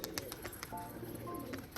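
Racing pigeons in a loft coo softly, a low murmuring bubble repeating beneath a few brief sharp clicks and rustles, close by and fairly quiet.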